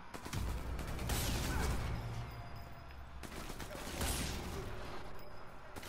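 Gunfire in Sniper Elite 4, the World War II sniper video game: bursts of loud shots and crashing impacts in clusters across the clip, dense and close.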